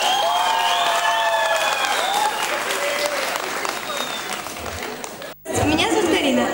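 Applause from spectators at a cat show costume parade in Kaluga, steady clapping mixed with crowd noise and talk, briefly cut by a gap near the end before resuming.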